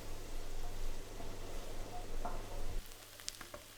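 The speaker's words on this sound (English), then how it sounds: "add in a large diced onion and a sliced jalapeno, and fry it all together for about 5 minutes, stirring often until the onion starts to soften" Butter, a large diced onion and a sliced jalapeno frying in a pan, giving a soft, steady sizzle that drops away abruptly near the end, followed by a few light clicks.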